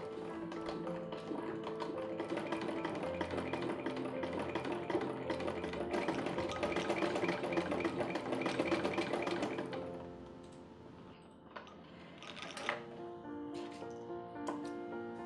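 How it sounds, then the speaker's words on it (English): A treadle sewing machine stitches fabric with fast, even mechanical clatter and a steady whirring drive, running for about ten seconds before slowing into a few scattered taps and clicks, close by. "So I'm still not used how to use the treadle, but slowly but surely I think I will get used to it."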